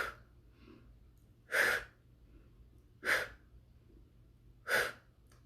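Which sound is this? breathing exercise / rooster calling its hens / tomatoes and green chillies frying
breathing exercise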